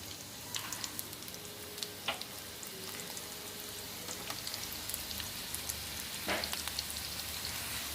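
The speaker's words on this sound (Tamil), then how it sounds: "எண்ணெய் சூடானதோ அதில் 2 பெரிய வெங்காயத்தை சேர்த்துக்கலாம்." Onions sizzling in hot oil in a kadai for masala puri, a steady crackling hiss with scattered sharp pops, moderately quiet and close, no voices.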